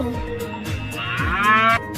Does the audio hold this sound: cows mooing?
yes